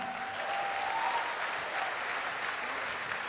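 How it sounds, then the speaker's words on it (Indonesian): Steady, dense applause from a seated audience at an Indonesian business opportunity presentation, continuous and fairly loud throughout with no talk over it. "Oke, tepuk tangan untuk mereka semua."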